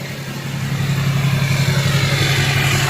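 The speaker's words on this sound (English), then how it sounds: "even at idle, this is about the LB7. Maybe just like 3 decibels louder than the LB7 at idle" A Duramax LBZ diesel engine idling with an MBRP turbo-back exhaust, a steady deep rumbling drone with a strong low hum, even and continuous throughout.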